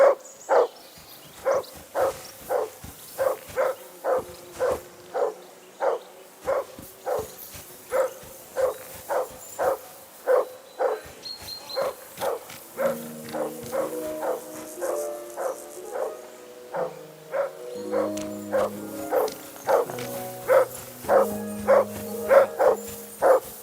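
A dog in Kingdom Come Deliverance 2 barks steadily and repetitively, about one bark per half-second for over twenty seconds, with music-like tonal layers joining partway through.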